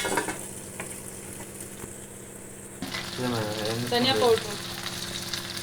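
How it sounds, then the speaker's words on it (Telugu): Eggplant pieces fry in hot oil in a pan for a masala, with a quiet sizzle at first, then a louder, bubbling crackle as the pan gets busier, heard up close with no speech. "వేగుతూ ఉంది కలర్ చేంజ్ అవుతా ఉంది చూడండి"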